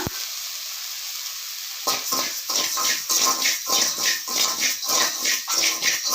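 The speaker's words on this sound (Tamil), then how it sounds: "நல்லா வறுத்து விட்டணும் உப்பை" Salt dry-roasted in a pan for homemade sambar powder, a quiet start followed by a steady run of close, rhythmic scraping and stirring strokes with a faint dry sizzle.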